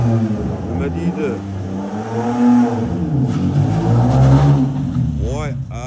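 A 2007 Kia Carnival, said to carry a 3.5-litre Sonata engine, revs hard in bursts with rising and falling engine pitch, close and loud, while people talk excitedly over it.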